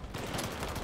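A short burst of dense gunfire during a heist in the Payday 3 closed beta, loud and continuous, lasting under a second with no talking.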